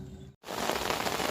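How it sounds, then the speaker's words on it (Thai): Rain starts again at an outdoor natural fishing spot, heard from under an umbrella. After a short quiet gap, a loud, dense patter on the canopy sets in and holds steady. "พอเดินลงมาเท่านั้นแหละ ฝนมันตกอีกเลยค่ะ"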